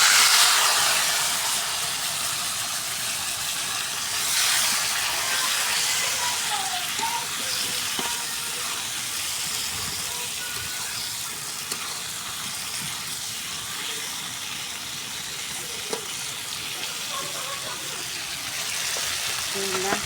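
Marinated pointed gourd pieces frying in hot oil, a steady close sizzle and crackle running through the whole stretch with small bursts and stirring noises, no talking.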